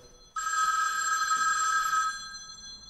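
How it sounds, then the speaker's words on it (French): A Iris Family television alert ringtone sounds as a single bright electronic ring lasting under two seconds, loud and close in a quiet room, then cuts off into near silence. "Et à ce moment-là, sur la télévision, on aura une sonnerie, la barre LED qui s'allume en bleu cette fois-ci et le message."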